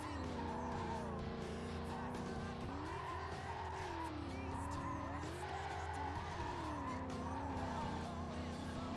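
Racing video game car drifting through traffic, tires squealing in long wavering skids over a steady engine drone, loud and continuous throughout.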